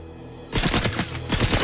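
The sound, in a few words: gunfire in a 007 video game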